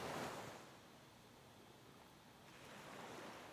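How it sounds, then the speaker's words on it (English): Ocean waves roll onto a beach, a soft hushing wash that swells, settles and builds again, faint and distant with a touch of wind. "I hope you enjoy the minute of waves rolling in and the ocean sounds"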